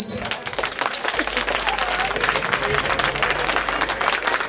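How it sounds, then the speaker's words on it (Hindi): A crowd at an outdoor neighborhood political rally claps, a scattered but sustained patter of hands with some background voices mixed in. "हाथ उठा के ताली बजा के बता दो"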